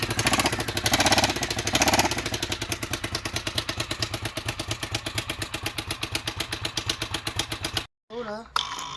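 A Honda 750 XLV motorcycle engine running after starting, a loud, steady rapid thumping idle with clattery mechanical ticking, continuous for about eight seconds before a brief cutoff and a short burst of speech.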